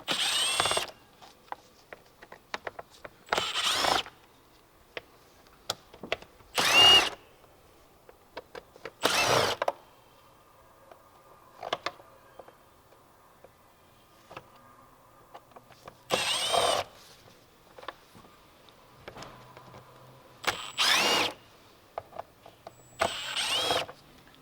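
A power drill with a T20 Torx bit backs bolts out of the air intake box of a 2018 VW Atlas. Short, loud bursts of whirring repeat several times, separated by quiet pauses and light clicks of handling.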